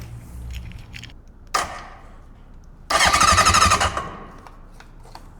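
Honda CB750F motorcycle engine with carburettors cranking and catching, a short burst followed by a louder rough firing roar that runs about a second before cutting back, heard close and alone.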